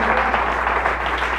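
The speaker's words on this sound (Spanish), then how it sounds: "¿Alguien le da un aplauso a Jesús en esta hora?" A church congregation applauds, giving a steady wash of clapping throughout with no distinct voices over it.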